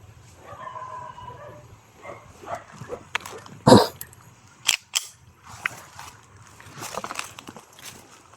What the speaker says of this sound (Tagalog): parang may nakita yung aso.